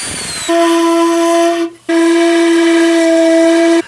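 A steady, pure shakuhachi flute tone sounds in two long held notes separated by a short break, close and clear with no talking.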